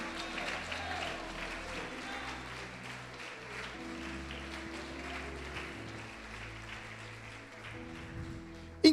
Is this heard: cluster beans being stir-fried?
no